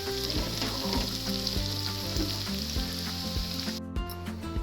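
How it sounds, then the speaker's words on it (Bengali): Carrots frying in a pan, a dense steady sizzle with repeated scraping stirs, loud and close throughout with no talking. "এই গাজরগুলো আর একটু করবে তো? হ্যাঁ আর একটু ভাজা হবে।"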